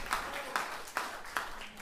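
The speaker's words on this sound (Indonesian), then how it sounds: "Tepuk tangan bagi Tuhan." A church congregation clapping in a steady rhythm of four even claps, fairly faint and roomy.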